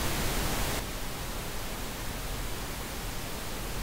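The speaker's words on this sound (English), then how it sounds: "I'm generating pink noise twice. I'm doing it once out of the left, and the other one's coming out of the right." Pink noise played from left and right loudspeakers into the room, a steady, even hiss that shifts slightly in tone after the first second and continues unbroken at moderate level.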